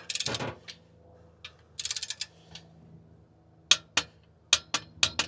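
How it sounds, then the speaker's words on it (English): A socket wrench snugs down locking fasteners on an LS engine, giving quick bursts of ratchet clicks with sharp metallic ticks between them, close and distinct against a quiet background. "So getting the socket in there, kind of snugging it down."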